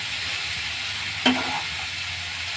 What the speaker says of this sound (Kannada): ಸಿಂಪಿ ಮಶ್ರೂಮ್ನ ಸೇರಿಸ್ಕೊಳ್ಳೋಣ ಇದನ್ನು ಮಿಕ್ಸ್ ಮಾಡೋಣ